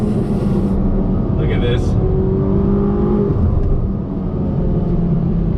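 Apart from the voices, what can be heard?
Ferrari GTC4 Lusso T engine accelerating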